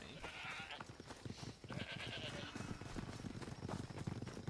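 Goats bleat repeatedly amid busy game sounds and hoof-like clatter in Assassin's Creed Odyssey, with a voice talking over parts of it.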